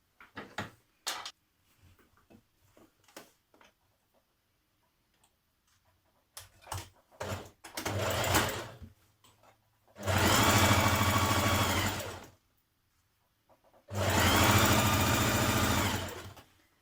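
A sewing machine stitches the centre front seam of a Simplicity 8635 maxi dress with a 1.5 cm seam allowance. Scattered handling clicks and taps come first, then two sustained, loud bursts of running stitches separated by a short pause.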